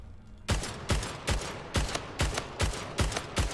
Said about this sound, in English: I didn't know they had this gun in the game.